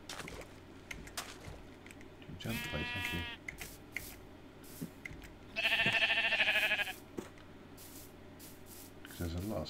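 Sheep in the Minecraft video game give two short bleats, one early and a louder one midway, over a faint game background with soft clicks.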